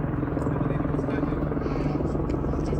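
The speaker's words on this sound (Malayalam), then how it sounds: "ഹെലികോപ്റ്റർ എവിടെ കണ്ടാലും നമ്മൾ നോക്കുമല്ലേ." A helicopter drones steadily through the whole stretch, a loud, continuous rotor and engine rumble on an outing near Staubbach Falls in Switzerland, with faint voices underneath.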